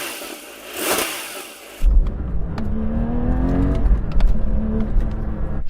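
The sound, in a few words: car engine revving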